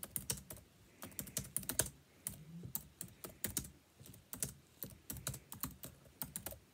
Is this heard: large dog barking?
no